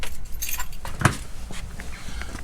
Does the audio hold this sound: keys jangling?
yes